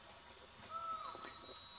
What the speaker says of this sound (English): that ringing sound, if you can hear it, is him singing, not the forest falcon